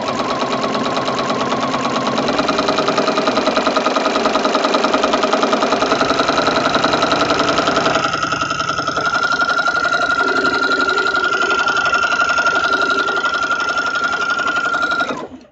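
A sewing machine runs steadily without pause as it quilts through the middle of a fabric rose petal made from scraps, its motor hum loud and close throughout.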